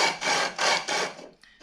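Sandpaper rubbed back and forth across the wooden top of an eight-brace acoustic guitar build, three close, rasping strokes of even length followed by a brief softer scrape.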